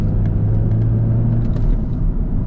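A salvaged BMW Z4 with a recently fixed misfire rumbles along at steady speed, its engine drone low and continuous, heard from inside the car with no talk.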